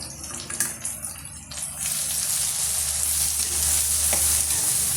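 Steady sizzling and frying of brinjal with tomato and spices in a hot pan, with occasional stirring scrapes, loud and close, no voices.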